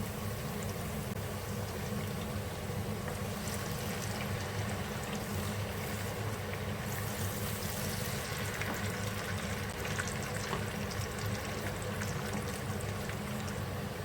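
Continuous soft sizzling and crackling of onions frying in a pan, steady and fairly faint, with no voices.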